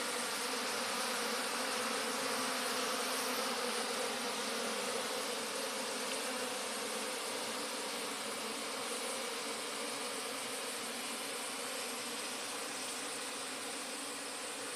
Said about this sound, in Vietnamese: lên chỗ ong rồi, lên chỗ biển biển mùng ong rồi, mùng ong nhiều rồi anh ạ